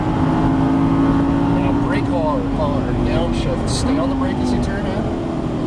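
A Lamborghini Gallardo Superleggera LP570 engine pulls hard at full throttle on a racing circuit, a steady, loud droning roar from inside the car while a voice talks over it.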